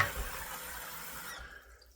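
Hot water running from a bathroom tap to soak a shaving brush, a steady close hiss of flowing water that cuts off near the end.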